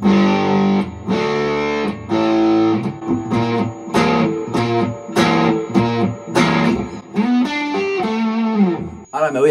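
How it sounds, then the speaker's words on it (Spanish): Jaminabox guitar pedal by Pedalcluster set to fuzz mode with heavy saturation, electric guitar chords struck in a steady sequence, thick and loud with sustained distorted tails, no talking. "Y con el conector puesto en el modo fuzz."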